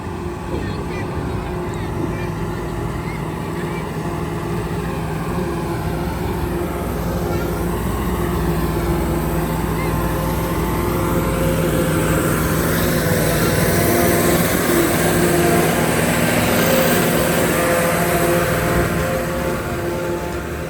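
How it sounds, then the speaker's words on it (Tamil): A loaded truck engine drones and strains steadily while stuck and slipping on a steep hill road in the Nepal hills, a heavy low rumble rising slightly in effort partway through, with voices talking over it. "இந்த வண்டி ஏற முடியாமல் மாட்டிக்கிச்சுங்க."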